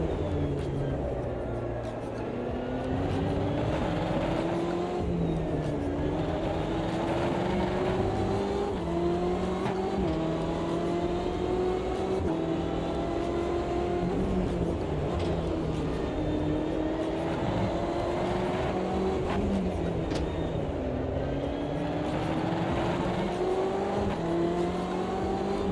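A BMW race car engine in the Automobilista 2 racing game, revving hard through repeated upshifts with rising pitch sweeps and brief drops at each gear change, loud and continuous throughout.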